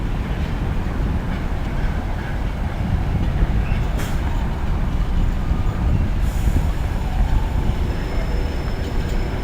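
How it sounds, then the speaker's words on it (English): A freight train rolls to a stop at Birmingham International station, giving a steady low rumble of heavy wagons with faint squeals of brakes, continuous and fairly close. "while that freight train comes to a stop"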